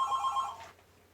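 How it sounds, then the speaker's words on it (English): A telephone rings in the background, a short electronic warble lasting about half a second and then stopping, fairly faint and alone. "Apologize for the phone ringing in the background if you happen to hear it."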